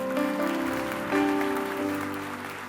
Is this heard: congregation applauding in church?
yes